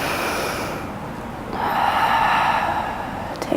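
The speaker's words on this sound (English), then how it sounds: "Taking one more breath." Deep breathing during a yoga flow session: a long audible inhale or exhale close to the microphone, rising into a fuller, louder breath midway.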